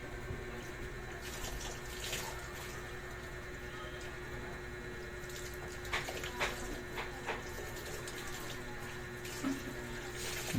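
Water runs steadily over hair as shampoo is rinsed out during a bath, a continuous splashing flow with a few soft knocks and handling sounds, close and moderately quiet.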